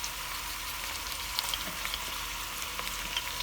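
Onions fry in a pan with a steady soft sizzle and faint crackling pops throughout, at low volume with no talk.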